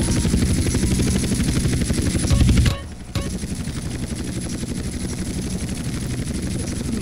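Helicopter in the GTA video game with the Siren Head mod, a loud, close, continuous rotor chop that briefly cuts out before resuming steadily.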